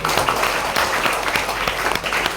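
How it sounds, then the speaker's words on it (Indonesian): Attendees at an Indonesian university book-chapter writing workshop give a short round of clapping, close and fairly loud, with a few sharp individual claps standing out. "Sekali lagi tepuk tangan untuk BPA."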